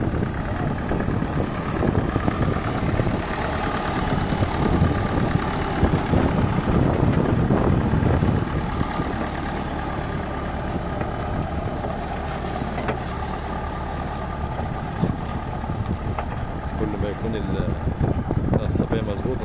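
An El Nasr tractor engine runs steadily while preparing farmland, a continuous loud mechanical drone with people talking over it.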